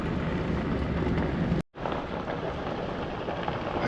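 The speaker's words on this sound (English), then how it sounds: "the wind is blowing like crazy" Strong wind buffets the microphone outdoors near a lake, a loud continuous roar with gusting rumble, briefly cut by a short dropout before resuming.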